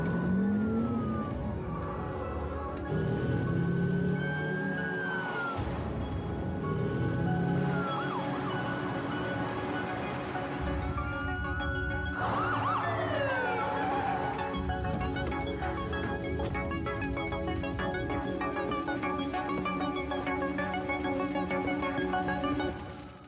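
Ambulance siren in the paramedic simulator game Ambulance Life, wailing continuously with a rising and falling pitch over vehicle engine noise and a busy game soundtrack, loud and close throughout.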